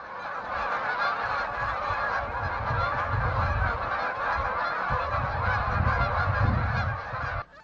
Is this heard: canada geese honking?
yes